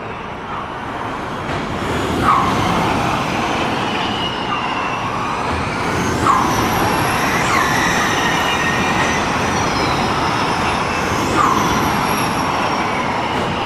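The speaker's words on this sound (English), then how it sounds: "That was one of the Neo cars going past." A loud, steady roar of Neo racing cars rushing straight past, with short high-pitched yelps rising above the engine noise several times.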